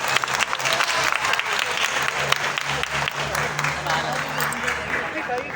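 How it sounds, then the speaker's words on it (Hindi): A theatre crowd at a live stage show applauds loudly and steadily throughout, a thick wash of clapping with a low hum and some voices mixed in underneath. "ये आपकी तालियां बताएंगे, आप सबके दिलदादा, हम सबका दिलदादा शकील शाह"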